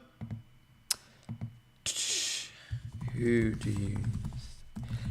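Someone types quickly on a computer keyboard, with close clicking key bursts that alternate with someone speaking.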